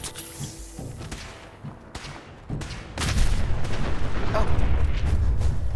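Gunfire in Fallout 4, a few sharp shots with decaying booms, then a heavy, sustained barrage of shots and thuds that grows louder, with a brief exclamation from a voice.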